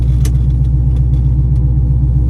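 A Ford Mustang gives a steady, loud low engine rumble as it rolls along, heard from close up inside the car without a break, with faint light ticks above it.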